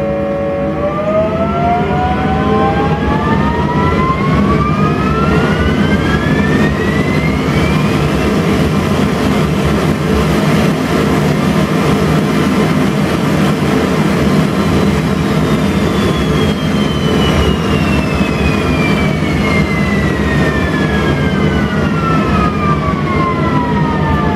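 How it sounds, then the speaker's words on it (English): A loud, steady engine roar with rising whining tones that sweep upward then fall away, like a turbine spooling up and winding down. "it pretty much captures the jet engine. So let's turbine ignition."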